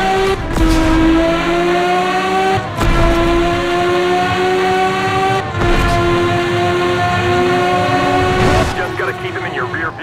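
Bentley engine in the GT Racing 2 racing game at Laguna Seca, accelerating in repeated rising pitch sweeps that cut out and restart about every three seconds, loud and close, with gear shifts breaking the climbs.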